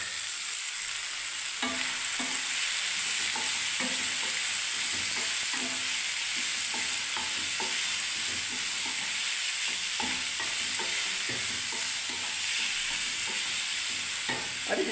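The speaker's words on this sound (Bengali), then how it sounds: "এবার আমি নাড়তে থাকবো।" Maggi noodles fry in a pan with salt and turmeric while a utensil stirs them. Steady sizzling runs under repeated scraping strokes across the pan for the whole stretch, close and fairly loud, with no talking.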